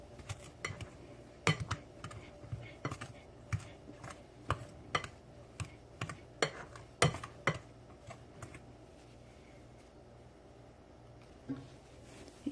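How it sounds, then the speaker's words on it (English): Knife chopping butter into flour for scones on a board, sharp irregular taps in loose bursts, close and fairly crisp, thinning out and stopping toward the end, with no talking. "Chop the butter finely into your flour."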